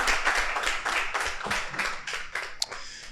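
Hands clap together from an audience at a political gathering, a fairly close, lively patter of individual claps that stays steady, then thins out toward the end with one sharp standout clap.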